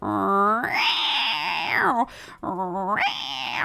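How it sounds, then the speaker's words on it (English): A domestic cat yowls close by, two long drawn-out wavering cries separated by a brief break, loud and alone. "Yowling, like what he just did now, that's just the way that cat sounds."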